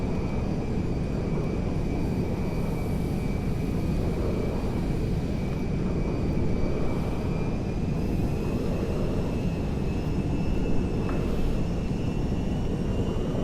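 Jet engines of a JetBlue Airbus A321neo airliner in a GTA 5 mod, heard as a steady, loud, continuous roar with a faint rising whine during descent toward Paleto Bay airport, no talking.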